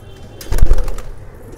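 Subhash Chauhan's pigeons from a Rohtak pigeon-keeping loft give a short burst of throaty cooing, loud and near, rising and fading within about half a second, with a hint of wing flutter and no talk.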